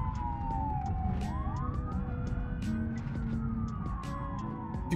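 Police car siren in a BeamNG.drive chase, a steady wailing sweep that rises and falls continuously over a dense rumble of engine and road noise, loud and close with no talk.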